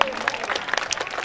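An audience at a school performance breaks into a short burst of loud, dense hand-clapping that carries straight through without a pause.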